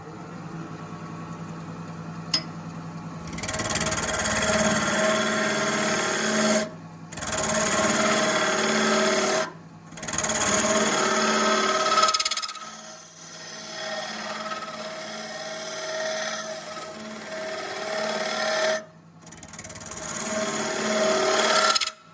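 Loud continuous whirring of a drill bit boring into wood on a lathe while turning a wooden mortar, running in long stretches broken by brief pauses, close and harsh.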